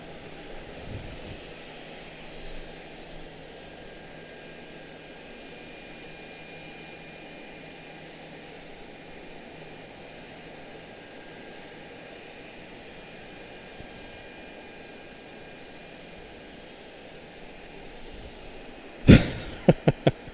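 An airplane at Charlotte-Douglas International Airport, a steady, moderately loud engine roar held for a long stretch, then a few sharp knocks near the end, with no talking.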